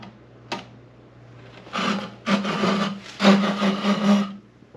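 Long strokes of a Japanese pull saw drawn through wood using the full blade, three rasping bursts growing in length and loudness after a faint knock, close and alone.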